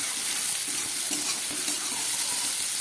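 Half-boiled potatoes fry in hot oil in a pan with a dense, steady sizzle that stays loud and even throughout, with faint stirring scrapes underneath and no talking.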